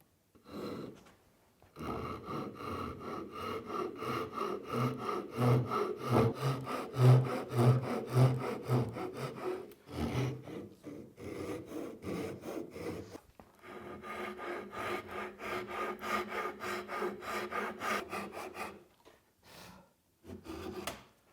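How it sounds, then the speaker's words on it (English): A Japanese pull saw cutting wood by hand while building a gaming shelf, rhythmic rasping strokes heard close up in two long bursts separated by a short pause, with no talking. "I'm going to use a Japanese pole saw to cut the bulk of it out"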